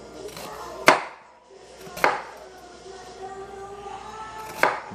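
Three sharp knife chops through an onion onto a cutting board, spaced about a second or two apart, close and crisp with quiet pauses between.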